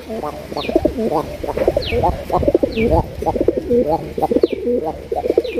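Raj Golla pigeons, a colored pair, coo repeatedly in rolling, throaty phrases close by, with a loud, continuous and overlapping sound.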